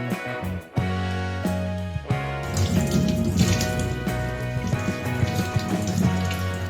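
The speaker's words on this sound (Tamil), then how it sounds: "நல்லா தேங்காய் நாரை வச்சு இப்படி தேய்ச்சி க்ளீன் பண்ணிக்கணும்" Running water splashes steadily while goat trotters are scrubbed clean with coconut fibre, a close, continuous wet rushing with rough rubbing and clatter layered under a faint musical hum.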